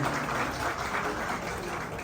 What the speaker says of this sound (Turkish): Bir alkış alalım kendilerine.